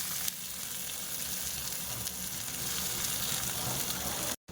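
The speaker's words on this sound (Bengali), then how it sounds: "বাকি আরও যে দুটো মাছ আছে ওইগুলোকে আমি ভালো করে ফ্রাই করে নেব" Pomfret fish fries in oil with a dense, even sizzle and crackle, loud and close throughout, before cutting off abruptly at the very end; no one speaks.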